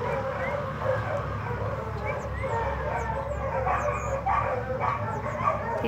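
A dog yips and whimpers close by, with short bow-wow barks mixed into a steady, fairly loud whiny stream of vocal sounds, with no talking.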